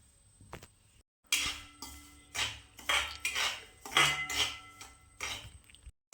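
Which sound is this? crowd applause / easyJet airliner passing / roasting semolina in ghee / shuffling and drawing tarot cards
roasting semolina in ghee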